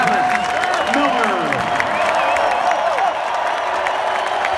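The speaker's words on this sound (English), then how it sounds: "Ladies and gentlemen, how about a nice round of applause for Captain Travis Miller?" A crowd applauds and cheers for Captain Travis Miller at a hometown hero tribute, with sustained clapping and a few whoops running steadily through the whole stretch.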